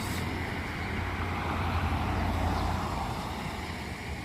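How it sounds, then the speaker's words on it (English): Road traffic in Joplin, Missouri: a continuous broadband rush of cars passing nearby, swelling slightly in the middle and easing off, with no voices. "Hello, cars."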